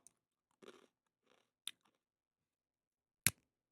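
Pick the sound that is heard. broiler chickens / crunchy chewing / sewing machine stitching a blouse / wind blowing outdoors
crunchy chewing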